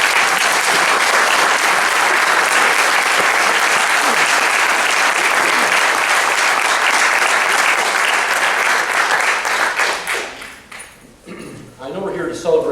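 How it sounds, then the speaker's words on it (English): A large graduation ceremony crowd gives loud, sustained applause for graduating chiropractic students. The dense clapping holds for about ten seconds, then dies away while voices rise briefly at the end. "Let's give them a round of applause."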